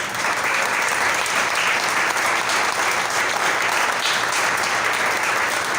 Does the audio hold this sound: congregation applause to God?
yes